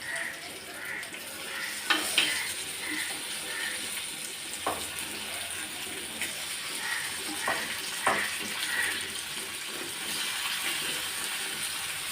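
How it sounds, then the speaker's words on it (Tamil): Fish frying in hot oil in a pan, a steady close sizzle that runs throughout, with a few faint clinks and scrapes as it is handled; no talking. "மீன் எண்ணெயில் போட்டு ஒரு பத்து நிமிஷம் ஆச்சு இப்போ திருப்பி விட்டுடலாம்"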